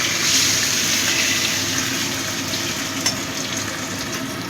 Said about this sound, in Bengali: আস্তে আস্তে করে মাছগুলো ভাজছি, কেন খুব ফাটছে তো